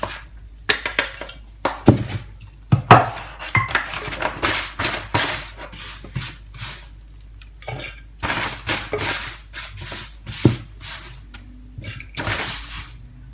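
Steamed wheat flour for Jaffna-style puttu is sieved while still warm, giving close, irregular metallic clatters, taps and scrapes that come in quick bursts separated by short pauses.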